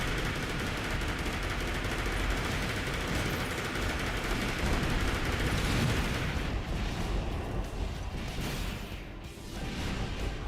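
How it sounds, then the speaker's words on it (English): Dual machine guns in the mech game Armored Core 4 fire in a dense, sustained rattle with heavy impacts mixed in, breaking into choppier bursts toward the end. "Okay, yeah, dual machine guns."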